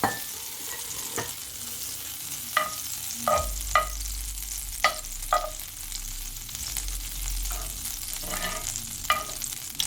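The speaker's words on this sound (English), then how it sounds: "So let's get this butter melted." Butter melting in a hot pan, cooked for garlic butter steak bites, sizzles steadily at close range, with a low hiss punctuated by scattered sharp pops and light scraping stirs.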